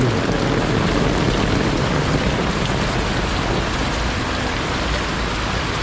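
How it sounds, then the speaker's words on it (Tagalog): Heavy rain from a typhoon pours down steadily in a dense, loud roar of water hitting surfaces, constant throughout with no voices. "tuloy-tuloy ang pagbuhos ng malakas na ulan"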